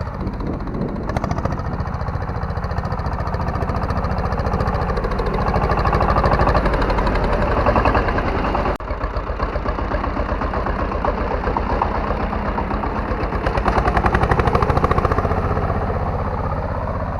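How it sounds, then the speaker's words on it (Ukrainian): A small tractor cultivating between potato rows idles steadily throughout, a low chugging rumble with a brief dip midway before the engine note resumes, close and fairly loud. "Ось таким трактором добре на маленьких участках крутитися"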